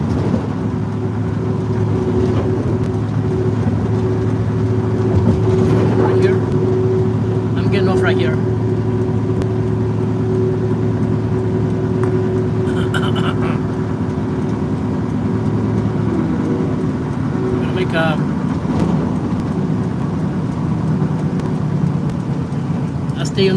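A car cruises along Interstate 81 near the Susquehanna River, a loud steady engine and road drone with wind rush inside the cabin, while someone talks intermittently over it.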